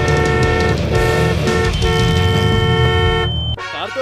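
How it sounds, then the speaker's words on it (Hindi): A Tesla Cybertruck horn blares in a long, loud continuous honk with a brief break, cutting off near the end, heard from inside the vehicle. "कार तो अच्छी है ही, हॉर्न भी बहुत अच्छा है।"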